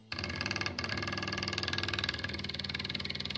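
A small 12 volt electric fuel pump self-priming on a bench, a fast, steady mechanical ticking buzz that starts suddenly and runs faintly and evenly, with a brief dip early on.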